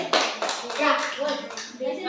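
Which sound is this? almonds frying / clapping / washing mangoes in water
clapping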